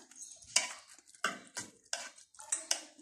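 Chicken with spices and saffron being stirred in a pot, heard as a series of crisp scraping strokes in uneven rhythm, close but moderately quiet, with no voices.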